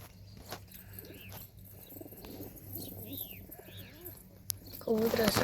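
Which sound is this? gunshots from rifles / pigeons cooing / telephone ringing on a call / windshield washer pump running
pigeons cooing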